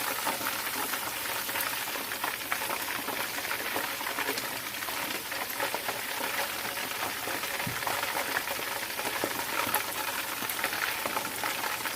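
Chicken fries in a pan for a steam roast, giving a steady, dense crackle and sizzle that holds evenly throughout with no talking.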